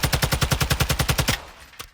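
A TAQ-56 rifle in Call of Duty Modern Warfare 2 empties a full magazine in a rapid, even burst of about a dozen loud shots, which ends abruptly and leaves a faint click and a short fading tail.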